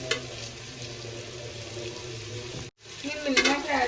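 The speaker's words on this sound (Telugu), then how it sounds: "అల్లం పచ్చివాసన పోయేంత వరకు ఫ్రై చేసుకోవాలి." Ginger garlic paste frying in a pan for bagara rice, giving a steady close sizzle with a brief drop out near the end before the frying noise comes back louder.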